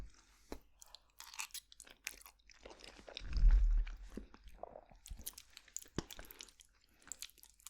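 Close-miked chewing of a thick stew with Brussels sprouts, soft wet mouth sounds and occasional crunches, with one louder bite partway through, in a quiet room.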